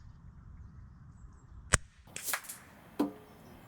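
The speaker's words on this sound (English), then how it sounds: "must say with this Ugget silencer on it, this gun is really quiet" An airgun fitted with an Ugget silencer fires one sharp, close crack, followed by a brief scuffle of handling noise and a second softer knock.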